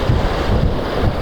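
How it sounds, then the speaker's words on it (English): Wind buffeting a camera-mounted microphone padded with cotton balls on a beach at Miscou Island, New Brunswick, a steady loud muffled rumble with faint surf underneath. "to see if that takes away some of the noise of the wind"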